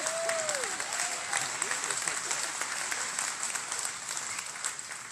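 An audience at a memorial meeting in John Day, Oregon, keeps up steady applause for several seconds, with a voice briefly heard through it at the start.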